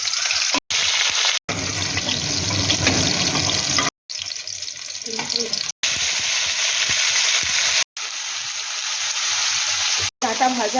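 Drumsticks fry in a pan of hot oil, a continuous close sizzle broken by several abrupt cuts to silence, with faint clinks of stirring here and there.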